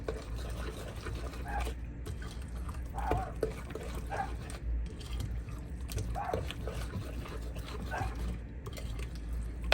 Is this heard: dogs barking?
yes